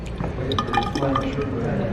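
Hot spring water runs from a gently turned tap at a bath house, a steady trickling and filling sound close by that carries on throughout, with light dripping accents.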